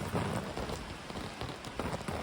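Rainwater running down the gutter of a Hubba NX backpacking tent outdoors, heard as a steady wash of rain pattering and trickling, close and continuous with no voices.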